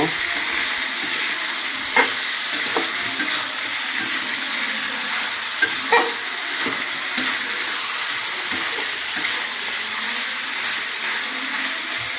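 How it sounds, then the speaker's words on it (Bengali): Food frying in a pan crackles and hisses steadily while being stirred, with a few soft clinks and scrapes from the spoon breaking through the continuous sizzle. "এরপর ভালো করে আমরা নেড়ে দেব।"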